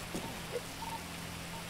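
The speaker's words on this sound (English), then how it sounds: "It's raining now." Rain falls in the GTA RP video game, a soft, even patter of drops on surfaces that holds steady and faint through a short stretch with no talk.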